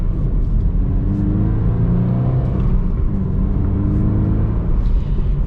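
A 2020 Subaru BRZ tS accelerating, heard from inside as a steady low engine drone with rising harmonics and road rumble, loud and continuous without reaching very high revs.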